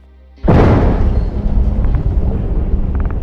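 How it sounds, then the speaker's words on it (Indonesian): A sudden deep boom of a mysterious explosion in a film bursts out of near silence, then a heavy rumbling roar lingers and rolls on, loud and sustained. "Film dimulai dengan suara ledakan misterius yang bersuara entah dari mana."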